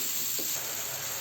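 Tomatoes hitting a hot pan for a mixed vegetable sabzi: a brief, steady, fairly loud sizzling hiss, close by, with no talking.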